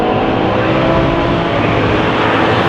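Race cars at Silverstone roar past the pit wall at the start of a race, producing a loud, continuous wash of engine noise that fills the whole clip.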